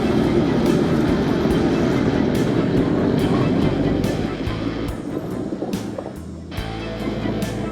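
Sherp Ark amphibious vehicle rolling across late-season lake ice on Lake Winnebago, a loud, steady engine rumble with rhythmic clanks and creaks from the tracks, close by and continuous.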